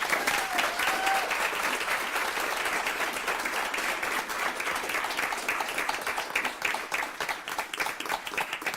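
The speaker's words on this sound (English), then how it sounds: "Give yourselves a round of applause." Sustained round of applause from the audience at a school district board meeting, steady dense clapping filling the room for several seconds, loud and even with no talk over it.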